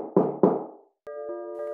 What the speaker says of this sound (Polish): Ktoś puka o tej porze?